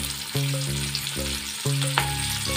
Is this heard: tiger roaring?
no